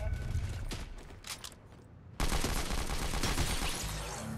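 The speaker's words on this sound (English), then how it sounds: "Somebody shot at me through here. Shot at me through the window." Gunfire in Fortnite Season 8 squads play, a dense sustained burst of rapid shots erupting after quieter scattered game sounds, loud and continuous to the end.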